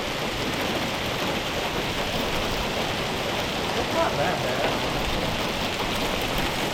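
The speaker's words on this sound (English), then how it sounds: "That's hail?" Hail falling outdoors makes a dense, continuous pattering hiss like heavy rain on surfaces, with people talking briefly over it.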